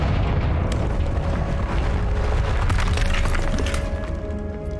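Confringo explosive spell blasts in Hogwarts Legacy, loud booming bursts with shattering debris and crackling that stays dense and noisy throughout, several impacts overlapping.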